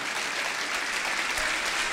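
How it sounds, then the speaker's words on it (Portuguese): A church congregation applauds God during a worship service, giving a continuous wash of clapping at moderate distance. "Vamos aplaudir o nosso Deus, vamos."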